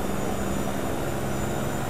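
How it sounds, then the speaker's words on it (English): A heavy truck engine revs hard into its upper RPMs with a steady, loud, droning roar that holds without a break, on a highway drive through New Mexico toward Texas in American Truck Simulator with the Kriechbaum sound pack. "I know I'm over-revving it a little bit, but that's okay. I wanted to listen to those upper RPMs."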